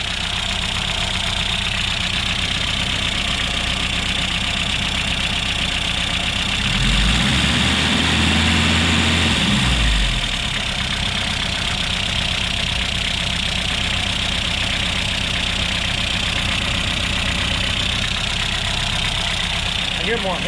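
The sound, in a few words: 1969 Opel GT engine idling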